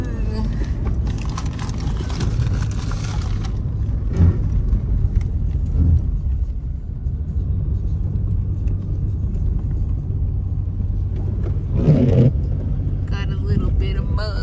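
Truck engine rumbling steadily while mud bogging, a low continuous drone under muffled talk and a few brief bumps and splashes.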